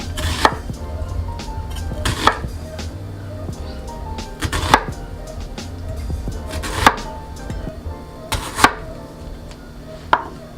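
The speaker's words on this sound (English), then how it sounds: "And then I'm gonna start chopping my vegetables." Half of a medium onion chopped with a knife on a cutting board for chicken noodle soup: sharp, distinct knife strikes at a steady, unhurried pace, close and clear with no talking.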